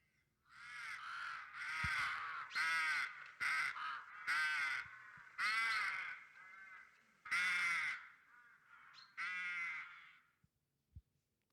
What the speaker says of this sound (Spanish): una característica casi parecida a los graznidos de un cuervo